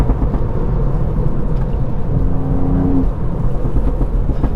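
Tuned 265bhp Mk8 Ford Fiesta ST accelerating in third gear, a steady loud engine drone with a brief rising tone near the middle, no talk.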